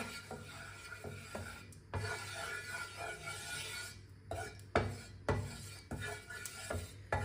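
A spoon of oil spread across a pan with a utensil while making paratha, close scraping and rubbing strokes in short repeated bursts with brief pauses, quiet and alone.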